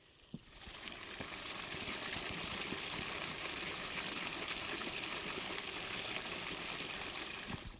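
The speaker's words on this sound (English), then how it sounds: "now the water is coming out down here through a pipe" Water gushes steadily out of a pipe from an opened hole at Battir, a continuous rushing flow at close range with no voices.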